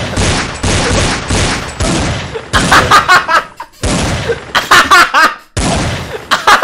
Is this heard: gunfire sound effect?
yes